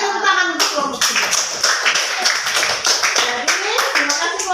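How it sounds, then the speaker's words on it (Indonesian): A classroom of students clapping for a presenting group, sharp, fairly close handclaps in an uneven, lively rhythm lasting a few seconds, with voices mixed in. "tepuk tangan untuk kelompok 3"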